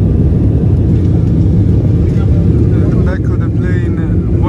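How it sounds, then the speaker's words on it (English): Inside a passenger airplane cabin during flight, seated at the back, a loud constant engine drone and rushing air fill the space, with a voice talking over it near the end. "Never sit on the back of the flight, that's where it shakes the most."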